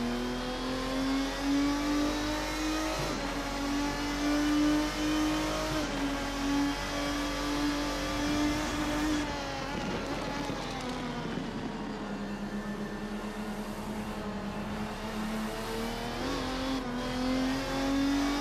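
A race car engine in the Assetto Corsa racing sim revs continuously and loudly, pitch climbing and dropping through gear changes with no talking over it.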